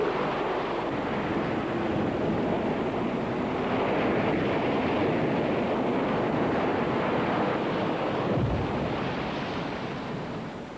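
Rough sea surf pounding near a South Georgia penguin colony, with strong wind buffeting the microphone in a continuous, loud roar that holds steady throughout and eases slightly at the very end.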